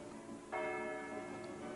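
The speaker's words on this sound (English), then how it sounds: "if you make a wish when the bells are chiming, that it will surely come true" A church bell strikes on an island church in Slovenia, one clear ringing stroke that sustains over a steady background hum, heard at a moderate distance with no talk.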